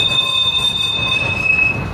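A vintage electric tram of the 1890-founded Sandhurst and Eaglehawk Electric Tramway Company runs steadily on its rails in Bendigo, a continuous close rumble from the wheels with thin high squealing tones held over it, and nobody talking.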